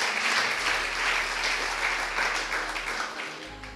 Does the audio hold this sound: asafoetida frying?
no